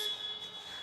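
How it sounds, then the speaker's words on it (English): A steady, piercing electronic buzzer tone sounds continuously with no pauses, loud and close, over a faint crowd murmur at an ultimate frisbee championship game. "You will, of course, hear the obnoxiously loud buzzer"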